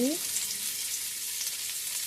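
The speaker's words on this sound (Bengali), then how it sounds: "তারপর দেখো আমি কড়াইতে তেল দিয়ে দিলাম তারপর আমি এক এক করে পেঁয়াজ কুচি" Chopped onion frying in oil in a wok gives a steady, close hiss of sizzling that lasts the whole short stretch, with no voices.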